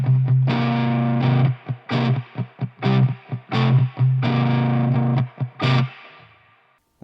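Heavily distorted electric guitar plays loud, sustained blues notes and short bends in bursts, close up, ending with a fading ring.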